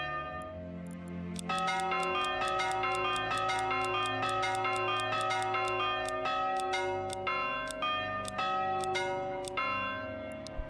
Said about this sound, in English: If you change the sound of your church bell, just by clicking this, you get an achievement.